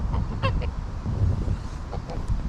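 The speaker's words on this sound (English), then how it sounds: "There we are, a couple of geese there" A couple of geese honk briefly, nearby, while grazing near an aqueduct, over a continuous low rumble of outdoor noise.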